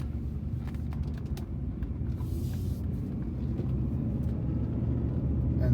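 A Bentley Turbo RT with its 6.75-litre V8 cruising and moving up through the gears on tarmac, a steady, smooth low engine rumble heard from inside the cabin with no talking.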